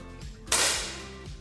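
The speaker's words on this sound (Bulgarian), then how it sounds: "Произвеждаме изстрела." A single sharp rifle shot in a sport shooting session rings out close and loud, a sudden crack followed by a short decaying tail, with quiet room tone before it.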